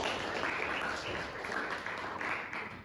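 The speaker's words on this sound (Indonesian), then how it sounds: "Oke, bagus, tepuk tangan." Classroom applause after a student presentation at a teacher-training performance test, a steady wash of clapping from a small group lasting throughout, moderately near with no talk over it.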